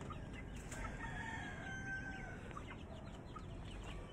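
Chickens and chicks on a backyard farm cluck and cheep softly, with scattered peeps and clucks over a steady low background, fairly quiet and without talk.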